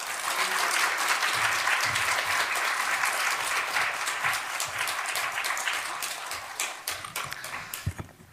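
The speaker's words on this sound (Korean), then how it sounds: "박수 부탁드립니다" A church congregation at an evangelism festival claps warmly, a dense, sustained applause that gradually thins into scattered claps toward the end.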